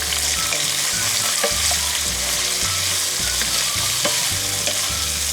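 Two large onions, sliced lengthwise, sizzle loudly and steadily in a hot pan with stirring scrapes and clinks, a dense continuous crackle throughout with no voices.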